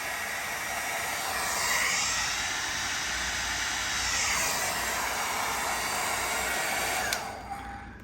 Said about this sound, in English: that one item is a hair dryer